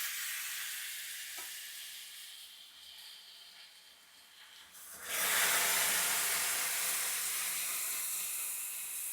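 Curry frying in a pan in a Konaseema home kitchen while chili powder goes in, a quieter low sizzle that swells abruptly halfway into a loud, steady, hissing fry.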